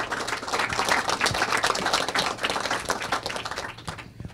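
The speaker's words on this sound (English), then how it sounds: "I just want to get a round of applause for the new king of prog rock, Dave Weigel." Audience at a live talk event about prog rock breaks into a dense round of applause, steady and fairly loud, then tapering off near the end, with no speech over it.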